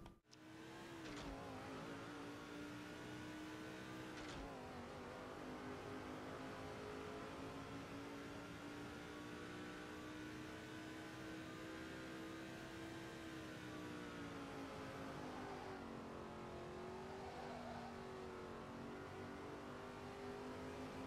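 Race car engines in the NASCAR 06 racing game drone and rev steadily for about twenty seconds at New Hampshire, a loud continuous tone that rises and falls with a couple of gear shifts.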